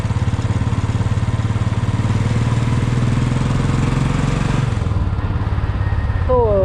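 A motorcycle ridden with a GoPro on a helmet chin mount gives a close, steady engine drone that holds an even pitch for several seconds, then its tone shifts near the end. No speech is heard.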